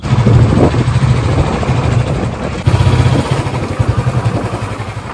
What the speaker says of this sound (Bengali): এই যে ও বাইকটাও বের করে নিয়েছে